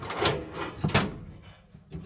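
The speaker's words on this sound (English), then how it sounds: "the oven door opening." A stove's oven door is pulled open aboard a wooden gaff cutter, with a few close scraping, rubbing knocks of metal against the tight stove frame.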